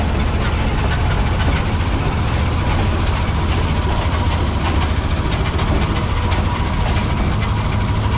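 An old Jeep, abandoned for 24 years, drives off-road with a loud, continuous, rough engine rumble and rattling at close range throughout.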